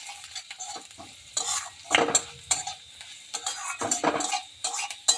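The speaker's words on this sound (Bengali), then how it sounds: "হিংটা দিয়েও ভালোভাবে একটু বেজে নিচ্ছি" Vegetables fry with asafoetida in a pan, stirred briskly with a utensil: repeated close scraping and clinking strokes over a soft sizzle, with no talking.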